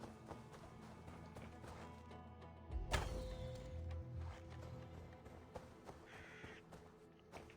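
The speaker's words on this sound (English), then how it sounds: "Birds are pretty hard to shoot when they're in the air." Crows caw in a Viking-themed video game amid game sound effects and music, with harsh repeated calls and a sharp impact burst partway through, moderately loud.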